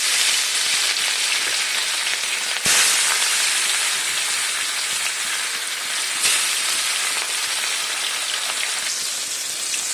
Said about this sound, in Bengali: কড়াই আমি সরষের তেল দিয়ে দিচ্ছি। মাছগুলো ভেজে নেব।